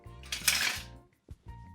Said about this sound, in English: And let's mix it all in here.